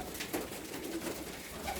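Pigeons cooing in a loft, several soft, close coos repeating over quiet background rustle, with no talking.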